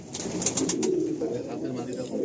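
A Kaldama Phulshira pigeon gives a short, low coo close by in a loft, with someone talking alongside it.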